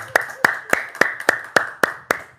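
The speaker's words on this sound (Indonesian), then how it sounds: "tepuk tangan dong" Clapping at an evening tahajud prayer gathering with orphans: eight crisp, evenly spaced hand claps in a steady beat, close and distinct, with a faint voice underneath.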